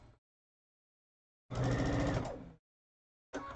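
A sewing machine stitching fabric edges closed for a quilting project runs in a loud, close burst of about a second, then a second short run starts, with silence between.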